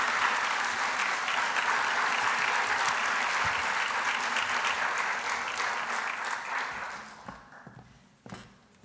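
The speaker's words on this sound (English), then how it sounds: "So let's please give her a big round of applause." An evening gala audience at an arts complex gives a full round of applause, dense and sustained, then thinning and fading out over the last couple of seconds with a few scattered claps and footsteps.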